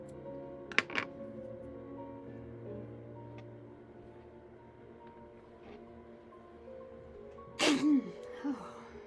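A single sharp sneeze late in a quiet indoor room where someone is knitting socks on a circular sock knitting machine, over a steady low hum, followed by a brief voiced sound; an earlier softer burst near the start.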